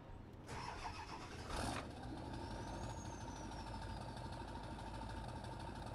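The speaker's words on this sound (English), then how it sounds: "That sounds like a diesel." A 2010 GMC G350 crew cab diesel truck in SnowRunner cranks briefly and catches, then settles into a steady, low idle with a faint rising whine. No one talks over it.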